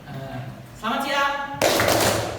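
An audience in a classroom-style session claps together on cue. A spoken instruction comes first, then a short, sharp burst of group clapping closes the clip.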